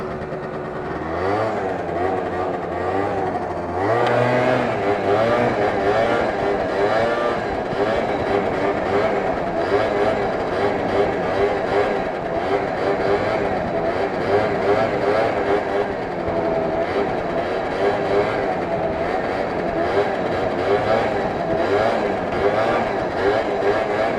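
Prebug Yamaha Zuma scooter engine running steadily throughout a long wheelie ride on an open road, a continuous buzzing drone with a brief pitch shift early on, loud and close.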